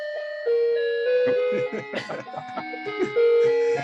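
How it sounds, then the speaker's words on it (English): A melodic electronic doorbell chime plays a sequence of clear tones, loud and close, with voices mixed in partway through. "That's a nice doorbell."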